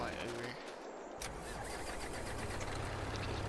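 A semi truck engine in the Farming Simulator 22 game hums and rumbles steadily after a short shift at the start, a continuous low drone at moderate level throughout.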